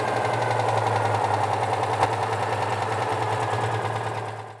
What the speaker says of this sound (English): let's come off completely off fast idle now